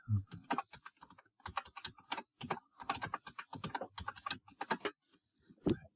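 A password is typed on a computer keyboard in quick bursts of close, crisp key clicks separated by short pauses.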